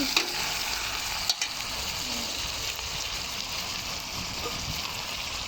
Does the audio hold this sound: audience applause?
no